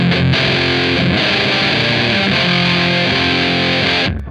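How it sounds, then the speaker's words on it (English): Distorted electric guitar through the distortion section of a Beetronics Zzombee Filtremulator pedal, sustained fuzzy chords and notes that shift a few times, then cut off abruptly near the end. "So what we have when we're playing is just the distortion section."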